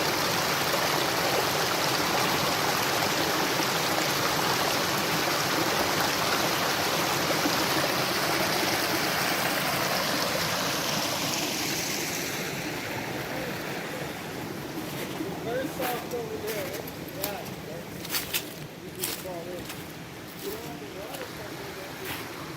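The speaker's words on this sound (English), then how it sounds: "the rocks that are in the bed, the water makes different sounds" Water in a forest stream flows over the rocks of its bed with a steady broad rushing wash. Midway it grows quieter and more gurgling, with a few light knocks and splashes near the end.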